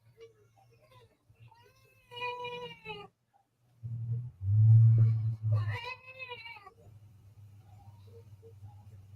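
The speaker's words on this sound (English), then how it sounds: "I can hear and feel your purr, so why are you still whining?" A cat meows and whines in drawn-out, wavering cries, with a low steady purr running underneath; the calls come in a few bursts fairly close by, with quiet stretches between.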